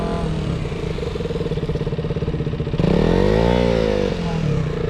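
A motorcycle engine chugs in a steady low rhythm, then surges louder with a rising and falling revving tone as the rider brakes to a stop.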